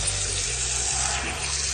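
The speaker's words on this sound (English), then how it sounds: "fill it up with more water." Tap water pours steadily into a bowl to rinse grated potato for starch, a loud, even rushing that stays unbroken from start to end with no talk.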